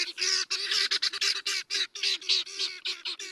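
Helmeted guinea fowl, speckled chicken-sized birds native to Africa, giving loud raucous honking calls in rapid repeated bursts, close and continuous with short gaps.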